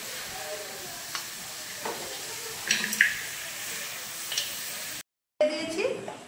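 Spices sizzle in a pan for mutton paya nehari, a steady soft frying hiss with a few stirring scrapes and clinks, which drops out briefly and then resumes.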